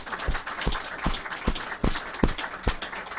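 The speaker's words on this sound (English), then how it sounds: "just want to give them all a big round of applause" An audience applauds a panel after an evening talk. Scattered hands clap with sharp, separate strikes at roughly half-second intervals over a thin wash of room noise, more sparse and ragged than a full ovation.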